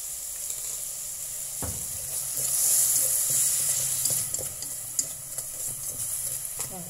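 Meat for a crown daisy green soup is stir-fried in a pot, giving a steady bright sizzle. Occasional soft spatula knocks and scrapes sound against the pot, fairly close.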